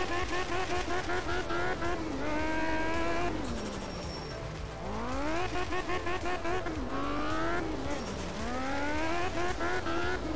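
A Group S rally car in the video game Art of Rally roars continuously with loud rising and falling revs through gear shifts, a harsh engine howl that dominates throughout.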